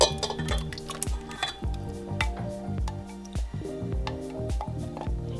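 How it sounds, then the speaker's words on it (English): A spoon stirs a strawberry jam mixture of fruit and sugar in a pot, making soft wet squishing and occasional clinks against the pot in an irregular rhythm, close and fairly quiet. "Just give this a little bit of a mix"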